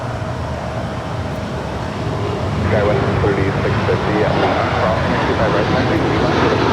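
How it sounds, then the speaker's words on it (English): Boeing 787-9 Dreamliner jet on runway 25 right at LAX, with a steady engine rumble that swells in loudness partway through as the aircraft moves down the runway, while a voice talks over it. "Again, this is Flight 6 heading to Tel Aviv in the 787-9 Dreamliner"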